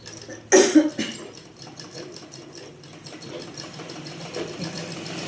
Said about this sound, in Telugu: ఇట్లా తీసుకొని దీన్ని కుట్టేయాలి